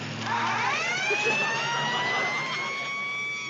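An ambulance siren wails with rising and falling tones over a low vehicle rumble, fairly close and sustained with no talk.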